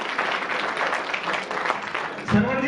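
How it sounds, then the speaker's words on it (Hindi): A crowd at an alumni meet and silver jubilee program breaks into steady, dense applause, close and continuous, with a voice briefly cutting in at the end. "डॉक्टर बोस गौतम जी के लिए स्पेशल तालियां।"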